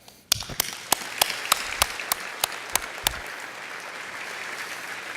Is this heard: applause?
yes